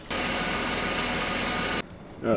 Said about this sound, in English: I'm just going to let the car run with the engine oil flush for 10 minutes